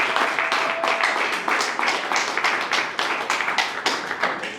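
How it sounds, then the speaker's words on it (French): Guests at a civil wedding applauding, a lively burst of many hands clapping in quick, uneven rhythm that fills the room and carries on steadily throughout. "Applaudissez pour la belle famille."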